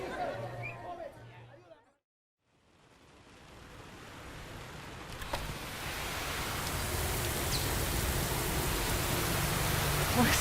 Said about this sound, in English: Listen to the sound of that rain.